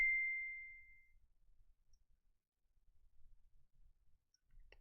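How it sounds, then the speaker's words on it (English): A single short notification ping rings out clearly and fades, followed by near silence with faint low rumbles and a small click at the end. "you guys could hear that ping and that notification sound"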